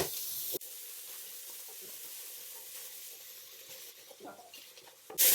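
Garlic and onions fry in a pan for a chicken curry, sending up a soft, steady sizzle with faint stirring clicks, bracketed by louder bursts at the start and end.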